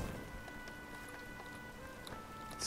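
Steady rain falls outside in the video game Oblivion, a faint, even patter with scattered droplet ticks throughout and no voices.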